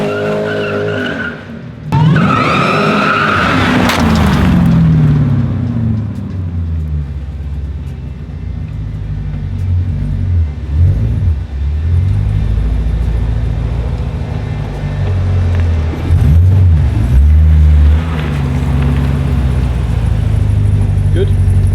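An LT4 V8-swapped BMW E92 M3 makes a loud first-gear launch with tyre spin, engine roaring and tyres squealing in a sustained rumble lasting many seconds, with voices talking over parts of it.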